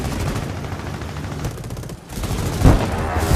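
Rifle-caliber machine guns on a twelve-gun fighter plane in a video game fire in long, loud, continuous bursts, with a brief lull before another heavy volley.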